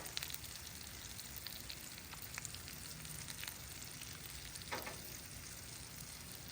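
Bacon cooking on a Loco griddle set to fairly low heat gives a soft, steady sizzle with scattered small crackles and pops, quiet and continuous with no talking.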